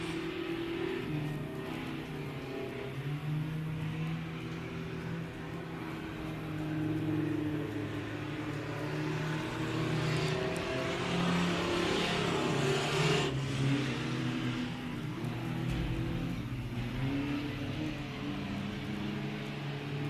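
Race cars at Big O Speedway roar around the track in a continuous blur of engine noise, rising and falling as they sweep past, heard at a distance with crowd ambience and no clear speech.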